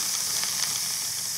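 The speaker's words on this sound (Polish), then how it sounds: "Dobrze, do smażenia cebula. Właśnie będzie trochę dym tutaj, jest gorąco" Chopped onion sizzles in a hot, slightly smoking pan, a steady bright hiss that holds evenly throughout without any voice over it.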